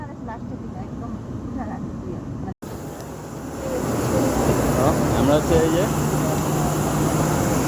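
A steady, loud hum fills a Biman Bangladesh airliner cabin during boarding, swelling partway through as a person talks over it.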